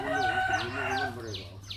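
A rooster crows nearby, a loud drawn-out call with rhythmic pulses that fades toward the end, over steady background hum.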